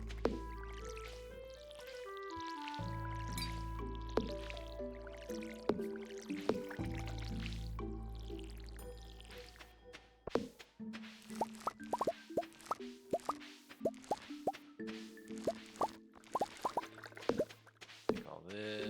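In the Stardew Valley video game a watering can pours over corn, heard as a run of quick bubbly plops and drips over light game music, with voices talking in between.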